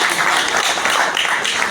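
Dense, loud applause from a gathered audience at a retirement felicitation ceremony for a senior X-ray technician of the Mumbai Port Trust, steady clapping with no speech on top.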